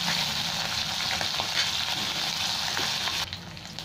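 Small fish such as pabda and chala sizzle steadily in hot oil in a pan for a Bengali jhinge-aloo fish curry, a dense continuous crackle that drops off sharply near the end.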